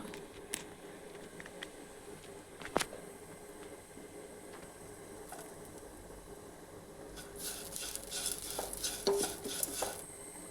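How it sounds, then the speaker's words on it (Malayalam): Curry leaves added to a cooking pan and stirred, faint scraping and clinking of a utensil against the pan with a soft sizzle that grows a little busier toward the end, no talk. "ഇതിലേക്ക് ഒരു കരിവേപ്പില ഇട്ട് കൊടുക്കാം."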